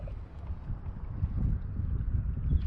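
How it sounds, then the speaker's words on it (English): Early-spring wind blows over open water during kayak bass fishing, a steady low rumble buffeting the microphone, with no talking. "now that it's gotten windy, I'm definitely not able to fish like I would like"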